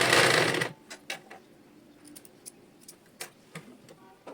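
Sewing machine stitching a saree border strip: a short loud burst of rapid stitching at the start, then quiet with scattered light clicks and taps from handling the fabric.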